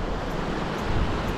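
A river rushes in a steady, broadband wash beside a table in the Demirkapı highlands near Trabzon, continuous and fairly close with no voices.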